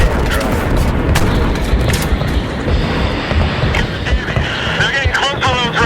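JDAM bombs detonating in Battlefield 3: heavy booming blasts and rumbling debris from a bomb drop, loud and dense throughout, mixed with radio chatter and game effects.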